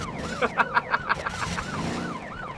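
An ambulance siren in the driving game Motor Town wails loudly and steadily up close, with a rapid yelping warble near the start before it settles into a smoother rising and falling tone.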